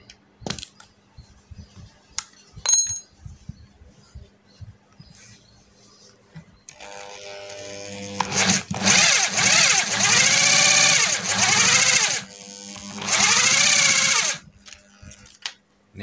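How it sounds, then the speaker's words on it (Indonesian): An electric drill spins an alternator dynamo magnet, whirring up in loud, harsh bursts of several seconds each after quiet handling clicks. "dicobanya menggunakan bor."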